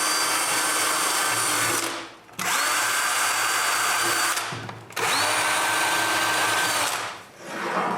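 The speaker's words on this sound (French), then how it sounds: "je perce des petits trous à chaque coin" An electric drill bores small holes into the corners of a wooden box, three sustained high-pitched whining runs separated by short pauses, loud and close with no talking.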